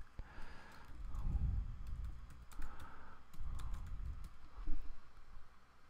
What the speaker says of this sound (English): we have to just retype it over